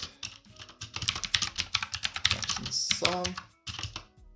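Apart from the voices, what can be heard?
typing code on a computer keyboard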